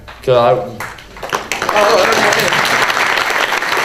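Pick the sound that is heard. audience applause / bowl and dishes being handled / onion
audience applause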